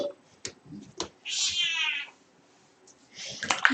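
A cat meows indoors with one long drawn-out call and a second rising meow near the end, between soft rustling and short sounds.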